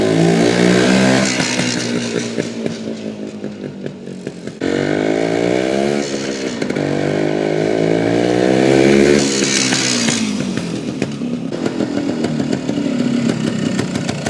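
A 1974 Yamaha TY250 trials motorcycle engine revs hard and close, pitch rising and falling through repeated throttle blips, loud and continuous throughout.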